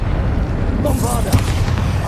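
A Bombarda blasting spell detonates in Hogwarts Legacy, a loud booming blast with a crack and heavy low rumble that lingers as continuous noise, while a voice speaks over the explosion.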